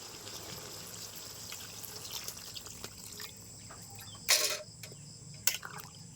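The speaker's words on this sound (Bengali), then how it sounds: "দিয়ে দিচ্ছি জল" Water is poured into a pot of cooking duck meat in two short splashing bursts over a faint background hiss, close and fairly quiet.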